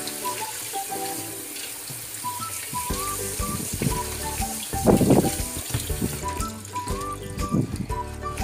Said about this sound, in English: we take the spinach and we wash it good from the salt